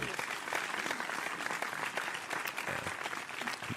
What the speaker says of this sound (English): It's a lot of applause.